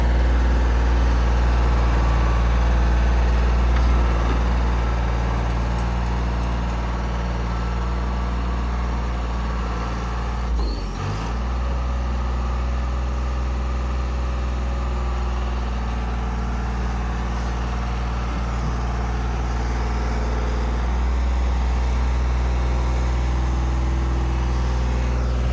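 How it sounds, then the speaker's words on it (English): A diesel engine idles steadily at a water main excavation on a construction site, a deep, constant rumble that runs for the whole stretch with a brief louder knock partway through and no voices. "Diesel power."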